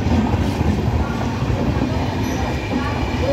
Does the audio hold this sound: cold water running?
no